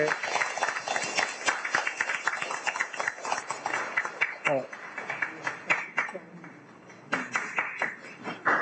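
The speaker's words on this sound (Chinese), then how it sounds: "咱掌声甲鼓励" A congregation applauds during a Taiwanese-language Sunday service at Luzhou Presbyterian Church, with a dense patter of clapping that swells and thins over several seconds, joined by voices.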